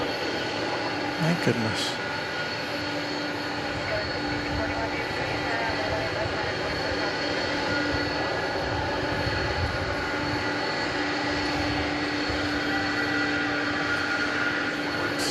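An Atlas Air cargo jet passes at DFW Airport at night, a steady broad engine roar holding throughout, while a person briefly exclaims near the start.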